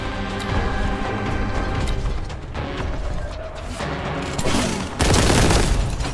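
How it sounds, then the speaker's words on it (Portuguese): A grenade blast in the Warhammer 40k Boltgun shooter, rising out of dense mechanical clatter and rapid gunfire into a loud, broad boom near the end, close and heavy, with no talking. "A granada dá hit kill nele."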